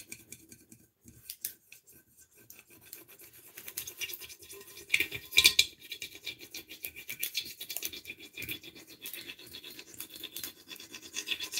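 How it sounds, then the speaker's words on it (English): Fine grit sandpaper rubbing on a towel rack makes quiet, irregular scratchy strokes. They come close up and keep going, with a slightly louder scrape near the middle. "you want to use like a really fine grit sandpaper. It gets rid of that little halo around there."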